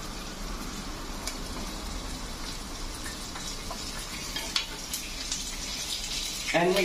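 Sambal frying in a pan with garlic and red onion gives a steady, close sizzle with a watery hiss and small crackles throughout, rising briefly at the very end.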